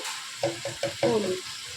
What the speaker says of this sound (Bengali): এটাকে একটু ভালো করে একটু নেড়ে নেব, নেড়ে এটাকে একটু ভালো করে ভাজা ভাজা করতে দেবো